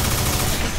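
A loud, dense photon cannon blast from Iron Man in Marvel vs. Capcom roars continuously for under a second, a harsh wall of sci-fi weapon noise.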